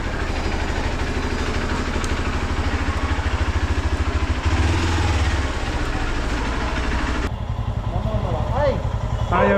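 A motorcycle engine idles and runs steadily at close range for the whole stretch, a low throbbing rumble that shifts slightly partway through, with people talking over it.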